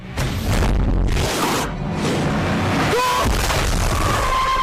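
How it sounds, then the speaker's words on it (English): Repeated heavy booms and rumbling blasts, loud and close, with debris-like crashing and a brief whistling tone in a game-style soundscape. "The explosion triggered a landslide"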